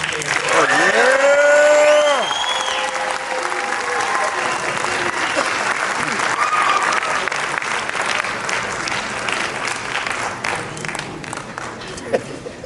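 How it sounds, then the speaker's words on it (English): Loud, sustained applause and some cheering from a high school spring concert audience, with a voice calling out over it near the start; the clapping continues steadily and tapers slightly at the end. "How about another round of applause for the concert?"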